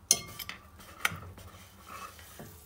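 A metal spoon clinks and scrapes in a pot, mixing half a teaspoon of salt into homemade butter popcorn ingredients, with a few sharp knocks against the pot and softer stirring in between.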